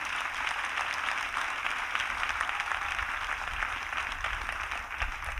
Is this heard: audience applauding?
yes